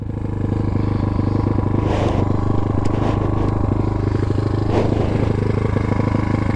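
A motorcycle idling steadily with a slight touch of throttle as the clutch is eased out, a close, even rumble with a couple of faint rising revs.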